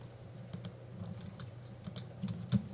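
Credentials being typed on a computer keyboard during a programming lecture, with a steady run of soft, close key taps and a few sharper clicks, heard alone over a low background hum.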